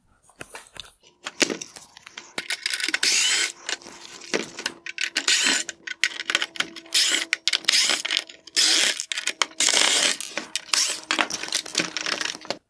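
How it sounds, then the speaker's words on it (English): T20 screws being backed out of the projector assembly in a 2018-2020 Mercedes-Benz S560/S63 Matrix LED headlight, giving a close, busy run of small clicking, scraping and rattling bursts with no talking. "Next, I'm going to start removing the T20 screws holding in the projector."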